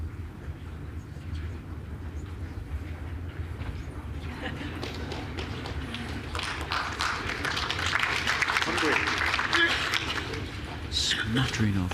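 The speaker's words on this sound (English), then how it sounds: "Smattering of applause" A sparse smattering of claps from spectators at the World Indoor Bowls Championship, with individual hand claps building in the second half over a low, steady arena hum.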